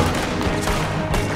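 Gunfire in Red Dead Redemption 2: a few sharp, loud shots spaced about half a second apart, cutting through a dense, continuous wash of game noise.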